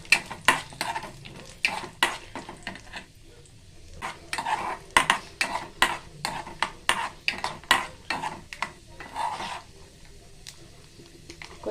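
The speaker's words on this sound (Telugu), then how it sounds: "నెయ్యి కాగిన తర్వాత మన ఈ జీడిపప్పు బాదాన్ని వేసుకుందామండి." Cashews and almonds stir-fried in hot ghee in a kadai: a spoon scrapes and clinks against the pan in quick repeated strokes over a soft sizzle, close and fairly quiet.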